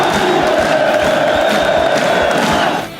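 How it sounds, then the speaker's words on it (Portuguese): A stadium crowd of football supporters roars in celebration after the second goal of a Brazilian match, a loud, sustained wall of cheering and shouting that fades slightly at the end. "2-0 e festa da torcida."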